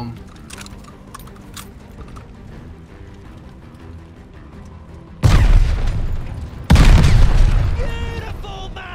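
A satchel charge detonates in a Call of Duty: Vanguard desert mission, two loud, heavy booms in quick succession that land after a stretch of quieter ambience and then decay slowly.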